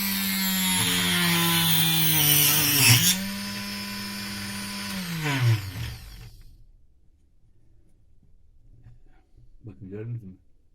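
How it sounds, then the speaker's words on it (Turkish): A homemade angle-cutting machine set to 45 degrees whines at a high pitch as it cuts, the tone dipping under load twice, then spins down into near quiet before a brief final burst. "Şu anda bu açılı kesim şeklinde geldi. 45 dereceye geldi. Bunun için, onun kesim yapacağız arkadaşlar."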